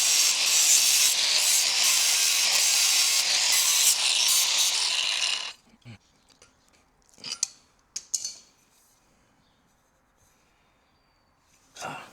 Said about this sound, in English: Hopefully that's the last time I have to grind it.